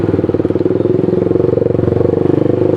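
A Suzuki GSX-S motorcycle engine runs close by with a steady, rapid low-pitched pulsing throb that holds an even loud level throughout, with no voices.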